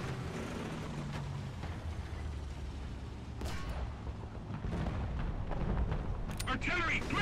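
Artillery fire rumbles through a War Thunder ground battle with a Panzer IV Ausf. C, low booms and gunfire building over a steady engine drone, with sharper distant blasts toward the end.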